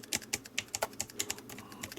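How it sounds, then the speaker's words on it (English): Fingers tap on the keyboard of an Amstrad NC100 notepad computer in quick, uneven clicks, close and fairly quiet, with no voices. "it's a lovely keyboard. It actually does feel quite soft,"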